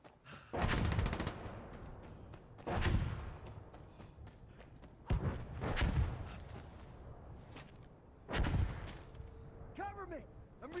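Gunfire in the combat video game Insurgency: Sandstorm: four heavy bursts of shots spaced a few seconds apart, loud and booming with rolling echoes, with some faint chirping sounds near the end.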